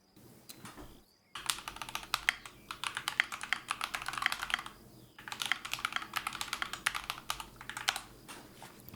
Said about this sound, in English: Your keyboard sounded so crisp.